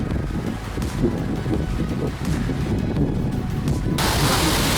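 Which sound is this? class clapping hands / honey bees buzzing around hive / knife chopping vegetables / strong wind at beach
strong wind at beach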